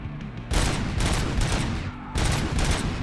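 Gunfire in the video game Robocop Rogue City: dense, loud bursts of rapid shots that pause briefly near the middle, then resume, with no talking.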